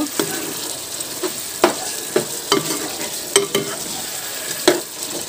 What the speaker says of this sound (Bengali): একটু গরম মশলা গুঁড়ো। ভালো করে মিশিয়ে নেব।